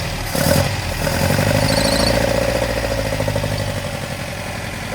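A Datsun 620 engine idles roughly on three of four cylinders, a close, uneven lumpy chug with a mechanical clatter, holding steady with a slight dip after a brief blip.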